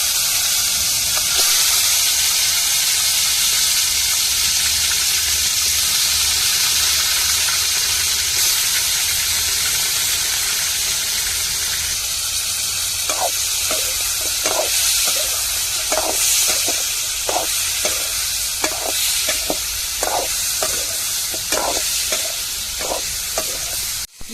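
Dried fish (karuvadu) frying in hot oil, a steady loud sizzle and hiss running throughout, with a run of sharp crackling pops and spatters breaking out over the last half.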